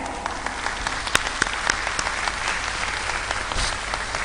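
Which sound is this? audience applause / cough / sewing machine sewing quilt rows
audience applause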